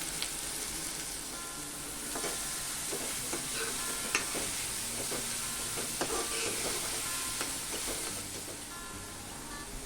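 One and a half onions left over for shahi matar paneer fry and get stirred in a hot pan, a steady close sizzle with repeated spoon scrapes and clinks running the whole way through, no voices.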